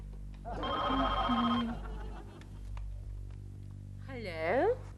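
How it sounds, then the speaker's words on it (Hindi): An outgoing phone call's ringing tone sounds in a comic Hindi TV sitcom scene, a repeated electronic ring pattern heard near and clear, with a brief warbling chirp near the end over a steady low background. "लेकिन मरने से पहले प्रेमा जी को फोन कर लेता हूं।"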